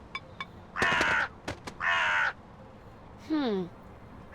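A crow in the game Elroy and the Aliens caws three times, loud and close, with two harsh short calls followed by a falling, warbling cry amid soft background sounds.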